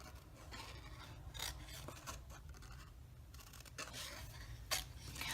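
Cardstock pieces for a handmade Stampin' Up! Painted Harvest card are cut out by hand with scissors, giving faint, close, repeated snipping and rasping strokes over a quiet hiss, with no talking.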